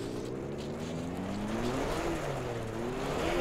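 A rally car engine whining in reverse gear in Richard Burns Rally with a damaged gearbox: a steady, droning rising engine tone with the high gear whine, close and continuous throughout.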